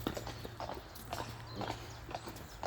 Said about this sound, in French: tu as le cheval qui vient, qui nous suit là